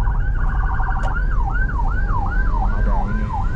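An ambulance siren passes on a busy road in the Cipinang–Klender–Cakung area toward Bekasi, Indonesia, its loud, repeating wail sweeping up and down over steady traffic noise.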